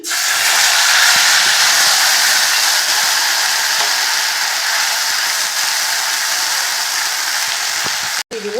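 Spice paste hits hot oil with fried black cumin and sizzles loudly, a steady close hiss and crackle that runs for several seconds before cutting out abruptly near the end.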